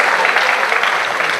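Audience at an RCM business event applauding a speaker being welcomed onto the stage, a brief burst of dense, steady clapping.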